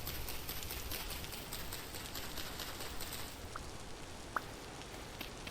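Steady rain falls in the Vintage Story video game, a dense even hiss running throughout at moderate level with a couple of faint brief drips or taps near the end.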